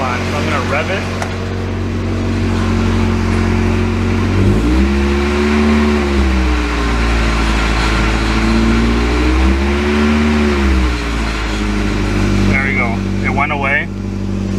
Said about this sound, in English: And oil light is still on, so I'm going to rev it.